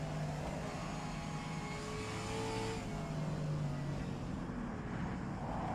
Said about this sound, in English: Trying to get back on the track and absolutely revving the nuts off it.